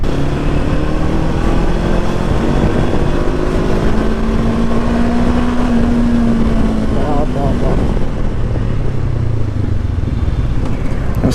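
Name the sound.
Honda NX500 twin-cylinder motorcycle engine rumble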